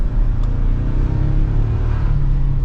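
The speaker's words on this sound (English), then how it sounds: "you can hear, like, while the revving noise doesn't sound all that good, you can hear some turbo sounds" A 2024 Toyota Tacoma TRD Sport 4X4 four-cylinder turbo engine revs with a steady, loud low rumble and a faint whistling turbo whine on top, continuous throughout with no voices.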